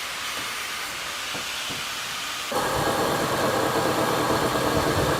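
A homemade bench grinder motor switches on partway through, its broadband whir jumping up in level and then running steadily and loudly to the end, with no talk.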